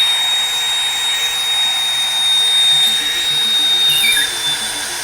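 A drill spins an oak cylinder at full speed under heavy pressure inside a hole bored in oak, giving a steady, close, grinding friction whine that holds for several seconds with no talk.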